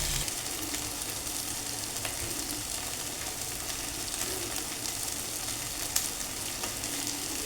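Steady, loud frying sizzle from a pan of kachu root (taro) curry with radhuni and cumin seed tempering as broth is poured in, a continuous hiss with one brief clink near the end and no talking.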